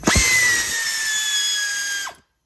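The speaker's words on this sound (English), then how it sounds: "It's an 8mm deep socket, 1/4 inch drive air ratchet. It's gonna make a little noise here." A 1/4 inch drive air ratchet with an 8mm deep socket spins off a nut during a starter replacement on a Chevy Tahoe, one loud continuous pneumatic whir for about two seconds before cutting off.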